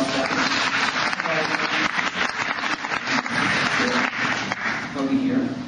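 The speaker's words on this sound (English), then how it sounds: "Let's give her a round of applause." An audience applauds continuously, a thick wash of clapping with faint crowd murmur and a few voices underneath.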